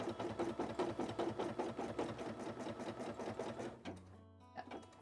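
An embroidery machine stitches an outline on a cosplay piece, a fast even mechanical rattle of needle strokes that runs steadily, then slows and stops near the end.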